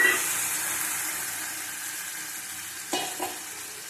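Mustard powder mixed with water goes into a hot frying pan, giving a loud hissing sizzle that slowly fades, with a couple of soft clunks near the end and no voices.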